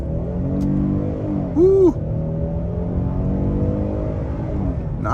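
A 2023 Hyundai Palisade Limited in sport mode accelerates with a steady, low engine drone that climbs gradually; a short whoop of a voice breaks in near the start.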